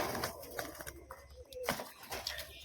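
Pigeons coo in a loft, with soft low murmuring calls mixed into a busy, moderately quiet scene with some background voices and clatter.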